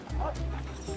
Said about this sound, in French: il y a toujours le chien qui est en train d'aboyer un peu de son côté